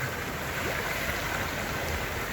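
Shower water running in a steady, close, unbroken hiss and splash, with no voices over it.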